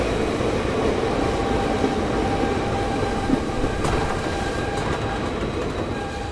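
The Harihar–Hosapete passenger train runs with a loud, continuous rumble, faint rhythmic wheel clatter and occasional metallic squeaks, steady throughout and with no talking.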